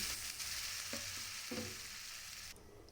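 Water poured onto spices fried in a little oil in a pan. It gives a loud, hissing sizzle close by, with a few soft knocks, and the hiss stops abruptly after about two and a half seconds.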